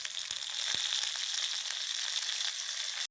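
Dried red and green chillies, along with chana dal and urad dal, sizzle steadily in hot oil while tempering for curd rice, a dense continuous frying hiss that holds at an even level and then stops abruptly.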